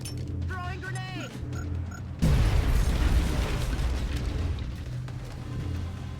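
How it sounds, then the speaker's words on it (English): A grenade explodes in the video game XCOM Long War, a sudden loud boom that follows a short burst of game sounds and then rumbles and fades over several seconds. "Throwing grenade."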